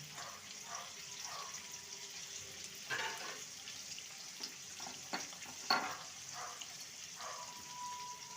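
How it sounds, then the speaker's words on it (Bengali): Potatoes cut small fry in oil with salt and turmeric, a soft, quiet sizzle broken by occasional spoon scrapes and light clatter, close but faint. "আলুটাকে একদম লাল করে ভেজে নিয়েছি"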